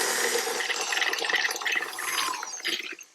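White granulated sugar pours into a bowl of beaten butter while an apple rose tart is being made. A close, grainy hiss runs for about three seconds and tails off at the end.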